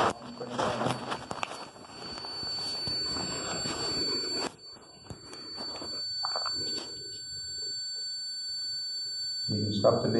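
An electronic device beeps during a paranormal investigation at Leap Castle, Ireland, giving sharp repeated tones and a thin steady whine over footsteps and people talking in an echoey room.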